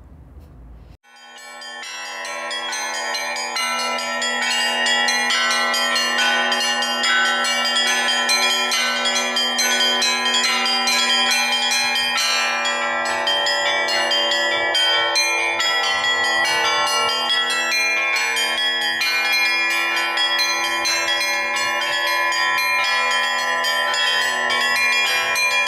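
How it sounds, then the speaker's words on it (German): Church bells in the tower of the Assumption church in Kaluga are rung by a bell ringer for an Orthodox service. A loud, sustained, layered peal of many overlapping bells rings on continuously without a break. "wir steigen auf der Kirchturm zu Glückner Kirill."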